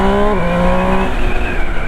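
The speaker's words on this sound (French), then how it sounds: "on laisse la machine accélérer et se libérer" A Triumph Trident 800 motorcycle accelerating hard, its engine note rising loud and close, then shifting and climbing again, with no talking.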